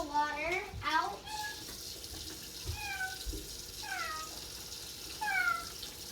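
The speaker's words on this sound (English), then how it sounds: "you've gotta dump some out into your sink. Dump some of the water out." Water from microwaveable ramen pours into a sink in a steady splashing stream, while a cat meows repeatedly near by and a voice talks briefly.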